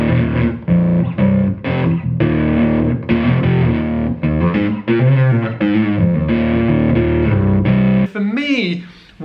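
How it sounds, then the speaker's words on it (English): A bass guitar through a drive pedal alone plays a gritty, buzzing riff of sustained notes and short phrases, loud and close, ending with a brief warbling effect. "Using that drive pedal on its own,"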